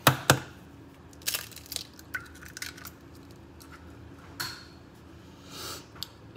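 A single egg cracked sharply against a hard edge while mixing condensed milk roll dough: two quick crisp snaps near the start, then faint handling noises.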